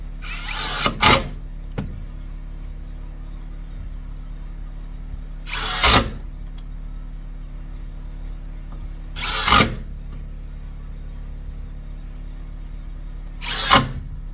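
A power driver sinks screws into subfloor during a house flip, four short whirring bursts spaced several seconds apart, loud and close, with a steady low hum between them.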